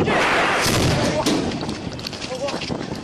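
Explosions on a fishing boat burning at Yanpu fishing port in Pingtung produce loud, continuous, close booming and crackling blasts, with raised voices mixed in.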